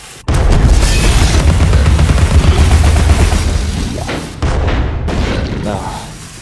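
Gunfire in Alice: Madness Returns, a video game, sounds as dense repeated booms and bursts, loud and continuous for several seconds with brief gaps near the end.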